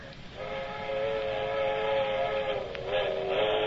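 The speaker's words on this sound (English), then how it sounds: "That's what I like best, them train whistles." Steam train whistle used as a sound effect in an old-time radio drama, a sustained tonal wail held steadily throughout, fairly loud and without speech.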